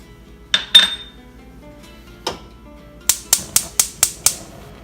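A frying pan set down on a stovetop for cooking pupusas, giving a few sharp metallic clinks and knocks, then a quick rhythmic run of six bright taps close by.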